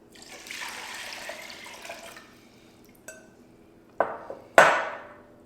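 Water pours steadily into a pot for a couple of seconds, followed by a few sharp metallic clanks and knocks.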